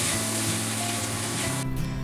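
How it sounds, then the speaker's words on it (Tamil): Chopped tomatoes fry in a pan with softened onions for a bottle gourd subzi, a loud, continuous close-up sizzle that cuts off abruptly near the end. "தக்காளி வந்து ஒரு 2 நிமிஷம் நல்லா வறுபடட்டும்."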